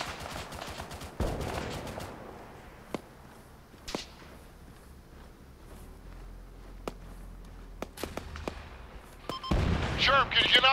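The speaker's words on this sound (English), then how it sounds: "Machine gun." Machine gun fire in the ARMA 3 military shooter during a headquarters assault, sharp scattered reports near and far, with a dense burst at the end, under voices talking over radio.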